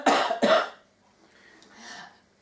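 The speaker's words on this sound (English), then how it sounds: "The coughing is from the yelling last night." Two sharp, close coughs in quick succession from a hoarse throat after yelling at a concert, followed by a softer rasping breath.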